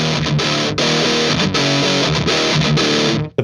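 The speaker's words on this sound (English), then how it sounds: "It's definitely just some extra distortion." An EHX Hell Melter HM-2w distortion pedal in burn mode drives a thick, saturated guitar riff, with loud, dense chugging chords and short choppy gaps between phrases, played alone.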